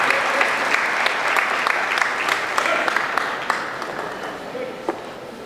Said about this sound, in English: Give a big round of applause for Nag and Sheila.